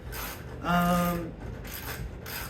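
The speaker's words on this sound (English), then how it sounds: "I got to take this vise off. There's a bolt back here and two on the sides" A ratchet wrench works on the bolts holding a bench vise to a workbench, giving a short, loud burst of mechanical ratcheting with a ringing squeal, set against a quiet room hum.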